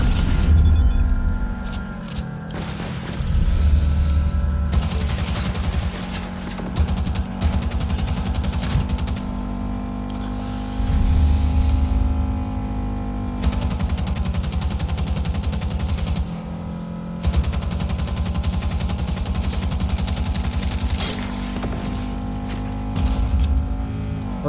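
Cyberpunk 2077 gunfire rattles in sustained bursts over a steady engine drone and a thick game soundscape, loud and continuous with rapid repeated shots and occasional booms.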